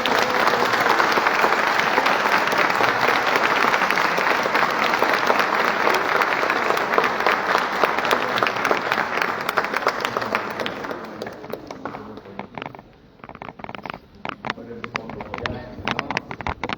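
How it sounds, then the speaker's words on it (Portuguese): A congregation at a church service breaks into a long, loud, dense round of applause for a baptism, steady for about ten seconds before thinning into scattered claps and fading. "com uma grande salva de palmas"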